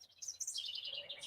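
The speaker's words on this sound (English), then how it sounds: "you can hear the birds chirping" Small birds chirp outdoors in a light breeze, a quick run of faint, high tweets over a quiet low background.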